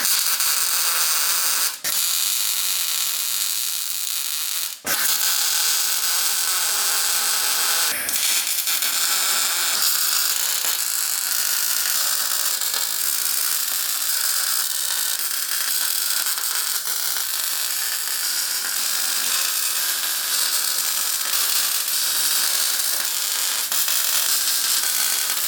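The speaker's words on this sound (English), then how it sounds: "got this thing all tacked up. Got all the corner pieces tacked here." Tack welding steel corner pieces with a MIG welder in a shop, a steady crackling hiss running throughout with a few sharp breaks where the arc stops and restarts; no talking.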